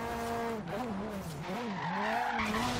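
A Lotus Elise in Forza Horizon 3 skids under hard braking, tires squealing in a wavering, pitch-bending whine over the engine drone, the back end swinging around, continuous and fairly close for under three seconds.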